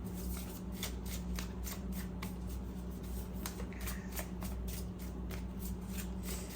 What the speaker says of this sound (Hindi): अच्छे से हम शफल करते हैं